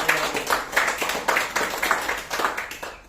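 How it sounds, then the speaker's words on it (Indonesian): An audience at a marketing plan presentation claps for True Life in loose rhythmic bursts, fairly close, tapering off at the end. "Tepuk tangan dulu buat True Life."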